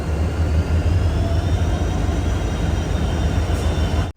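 A diesel locomotive hauling the Siddheshwar Express between Mumbai and Solapur drones loud and steady, with a continuous low engine rumble and rail noise that cuts off abruptly at the end.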